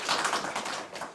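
Audience applause at a Renault Samsung Motors union press conference in Busan, a brief patter of scattered hand claps, close and fairly light.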